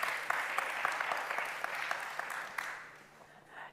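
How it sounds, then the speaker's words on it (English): A summit audience claps for two panel guests in a moderate round of applause that holds steady, then fades away over a few seconds. "Let's give them a round of applause, shall we?"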